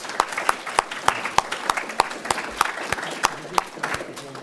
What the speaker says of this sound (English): join me in a round of applause for our sponsors